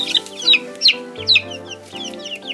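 Several backyard chickens, one with unusually small wings, cluck in a run of short, bright calls at a regular pace, close and clear, with low murmuring underneath.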